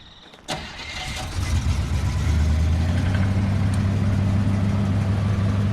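A 1972 Buick Skylark with single exhaust cranks and fires up nearby, then settles into a steady, loud, rumbling idle that holds for the rest of the clip.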